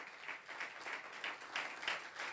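A church congregation applauds during a sermon, with fairly faint, distant clapping that comes in uneven, rippling waves with no speech over it.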